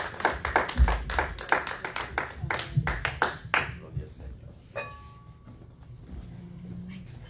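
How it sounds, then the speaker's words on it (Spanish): A church congregation claps together at a prayer service, rapid loud rhythmic hand claps for about four seconds that then fade into quieter room sound, with some voices mixed in. "Dale un aplauso fuerte a Él."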